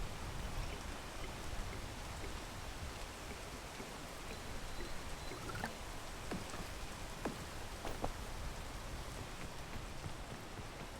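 Rain in a video game, a steady even hiss of downpour pattering on surfaces, with a few faint sharper drips scattered through, continuous and unchanging, no talking.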